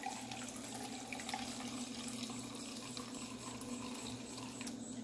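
Oil for a homemade orange-alcohol disinfectant detergent is poured through a small kitchen sieve, making a faint, steady trickle of liquid that continues unbroken, quiet and close, with no talking.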